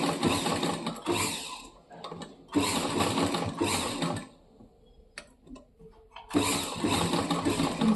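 Sewing machine stitching invisible piping onto a blouse runs in loud, close bursts of rapid whirring, stopping for a quiet pause with small clicks of handling before starting again.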